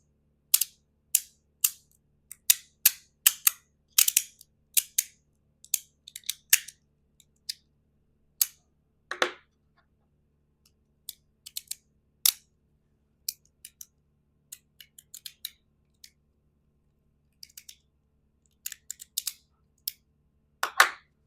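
Sharp metallic clicks from a stainless steel Mott Rhythm fidget toy in irregular bursts and singles, close and crisp, with quiet gaps between them and no talking.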